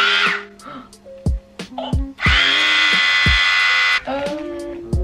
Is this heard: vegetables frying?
no